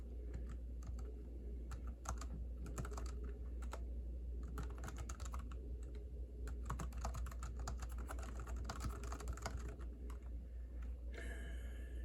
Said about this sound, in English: I'm a couple of words ahead of it in my typing